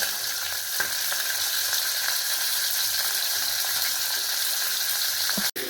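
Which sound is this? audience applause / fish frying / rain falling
fish frying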